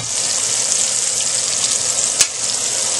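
Chicken pieces frying in oil, a dense, loud, close hiss and crackle holding steady throughout with one sharp tap partway through, no talking.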